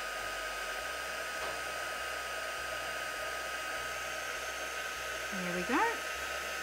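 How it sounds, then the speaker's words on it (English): Heat gun blowing a steady whooshing hum close by while embossing powder is melted on a card, running evenly the whole time, with a short spoken remark near the end. "Sometimes do a little bit of a heat, especially if I'm just starting the heat gun."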